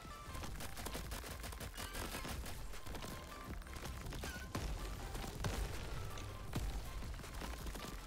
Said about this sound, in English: I'm using dual pistols with this